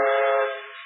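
A steam locomotive's whistle from a radio drama blows one sustained, loud multi-tone chord that holds steady and then softens slightly as it ends.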